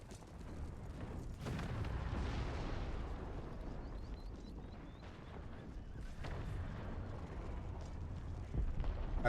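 Cannon fire and battlefield din in Empire: Total War, with Ottoman cavalry involved, forming a dense rumbling roar of booms and distant blasts that carries on throughout.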